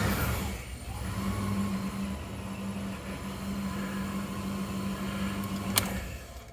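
Mitsubishi NL Pajero engine idling on petrol, a steady mid-low hum with a constant tonal drone that runs alone throughout, ending with a brief sharp click near the end.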